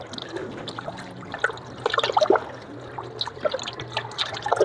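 Water splashes and trickles as adobo ingredients are washed by hand in a kitchen, an uneven run of close drips, pours and sloshing bursts with no talk.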